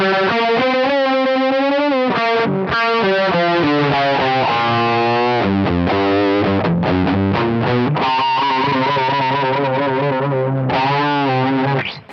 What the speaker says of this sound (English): just takes the signal and detunes it ever so slightly, giving you a sort of kind of chorusy type sound.